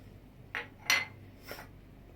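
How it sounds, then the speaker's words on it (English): Pieces of stir-fried bitter gourd tipped into a clay pot, giving three brief, close clattering knocks spaced about half a second apart against a quiet background, with no talking. "So I will add this into a clay pot"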